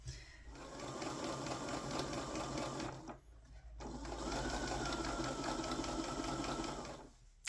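Sewing machine stitching a linen seam with 1.5 cm allowance on a summer dress, two steady continuous runs of rapid mechanical whirring separated by a brief pause, close and loud with no talking.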